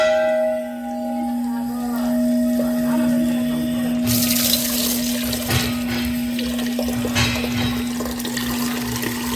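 Water runs into a vessel at a 3000-year-old Mahadev temple in Haridwar for a ritual offering: a steady splashing stream under a sustained ringing bell tone, with a louder gush midway and no talk.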